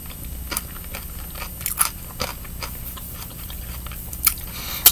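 Crunchy food bitten and chewed up close during a mukbang, with sharp crisp crunches recurring irregularly over a quiet background, several louder bites standing out near the end.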